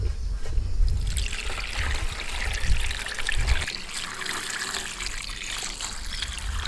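Hot water trickling and pouring over dry figs, a close, gentle splashing stream that gurgles strongly at first, then settles into a thinner, steady trickle.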